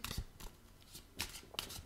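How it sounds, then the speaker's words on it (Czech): Oracle cards shuffled by hand in a quiet room, giving soft, intermittent papery slides and taps spaced irregularly, fairly close and low in level. "Míchám si tu kartičky a ptám se"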